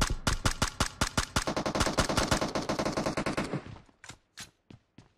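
Automatic gunfire from the PUBG video game rattles in rapid, evenly spaced bursts, loud and close. It slows to a few separate shots near the end, with no talk over it.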